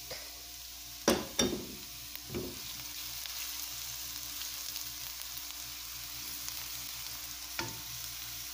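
Garlic frying in a pan for lumpia, a steady close sizzle broken by a few sharp clatters and stirring scrapes, with no talking.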